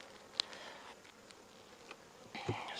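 Honey bees buzz softly inside an opened hive during a September inspection, a faint steady drone with a few brief, slightly louder buzzes of single bees passing close by.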